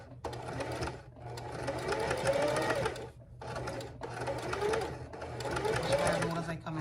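Sewing machine running a backstitch in bursts of steady mechanical whirring, with a pause around three seconds and another near five, under a person talking throughout.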